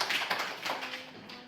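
Third-grade classmates at a village school clapping for a pupil after a reading practice, a brief scattered burst of claps from a small group that fades within about a second.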